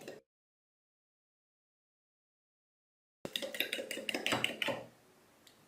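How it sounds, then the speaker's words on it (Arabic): A spoon stirs sugar, oil, water, yeast and vanilla together in a bowl, giving a close burst of clinking and scraping against the bowl after a long silence, then fading to quiet. "غادي نحاول نخلط مزيان هاد المكونات هذه كلها مع بعضياتها، السكر الزيت الماء الخميره"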